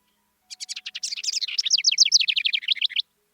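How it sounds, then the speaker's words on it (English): A tiny house wren sings a long, bubbling song of rapid chirps and trills, loud and close, rising into a fast rolling series that runs for about two and a half seconds before stopping cleanly. "there's a little tiny little bird making a huge sound"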